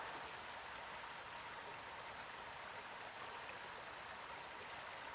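A woodland creek flows steadily on a fall afternoon, its water giving a constant, close rushing babble with faint tiny splashes and no voices.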